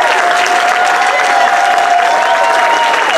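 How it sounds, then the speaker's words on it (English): Audience at a diaspora summit plenary breaks into loud, dense applause with some cheering and crowd noise, continuous and close throughout. "And Edwin deserves a lot of applause."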